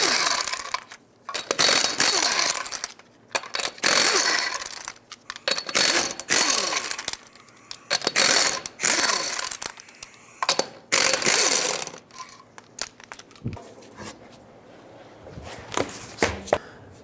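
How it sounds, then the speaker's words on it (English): Lug nuts come off a 2003-09 Toyota 4Runner front wheel with a 21mm socket, bursts of loud rattling impact-tool hammering with metallic clinks between, repeated several times close up, fewer and lighter toward the end. "going to start off by removing the wheel, 21mm socket, remove all 6 of your lug nuts."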